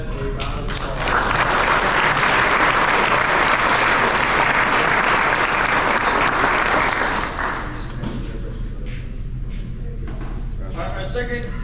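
Loud, sustained applause from an audience at a youth sports team's end-of-season awards, honoring a JV MVP; clapping swells strongly for several seconds, then eases into lighter scattered claps and murmuring talk.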